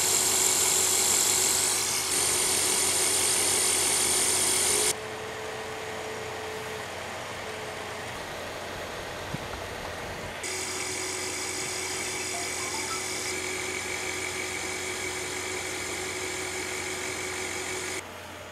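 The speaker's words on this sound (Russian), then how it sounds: "Вы сами слышали, как они шумели до и как после вот такой простой смазкой." Computer cooling fans in a PC, power supply and graphics card, running after being lubricated, giving a steady close whir with a high whine that shifts level a few times, with no talk.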